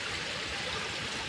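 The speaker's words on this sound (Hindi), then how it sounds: "देखो गटर का झरना, गंदे पानी का झरना" Dirty gutter water pours down like a waterfall at a village square after highway rainwater floods it, a steady loud rushing wash filling the air without pause, no voices.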